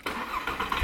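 A 2009 Audi TT RS with a standard exhaust cranks and fires up, a short whirring start that catches into a low engine rumble, close and loud, lasting under a second.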